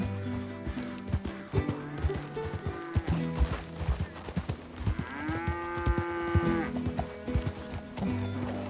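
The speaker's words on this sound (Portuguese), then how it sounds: "E até encontrei alguns cavalos selvagens" Wild horses in the video game Red Dead Redemption 2, with hooves clip-clopping, snorts and a drawn-out whinny over a rural farm backdrop, moderately close.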